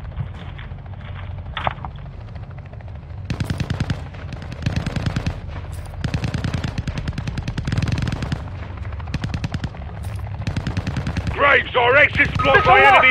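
Sustained bursts of rapid automatic gunfire in a military video game campaign rattle through the scene, loud and continuous with brief gaps, under radio-style voice chatter and battlefield noise.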